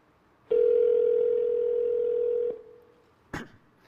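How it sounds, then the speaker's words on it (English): An iPhone places a call to a mobile number at a keynote event, with a steady, clear tone held for about two seconds, then a brief fade and a sharp short click or blip. "And now we are calling Johnny here."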